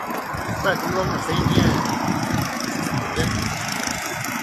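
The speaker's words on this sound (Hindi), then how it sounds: "ये मेन नेशनल हाईवे, ये गाड़ियाँ भी रवां दवा हैं" Vehicles roll along a main national highway, a continuous low rumble of engines with passing traffic, heard near and under someone speaking throughout.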